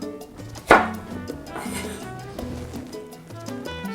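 A knife cuts peppers into long slices for Ropa Vieja, landing as one sharp chop on the board over a steady tonal background, then quieter sounds follow.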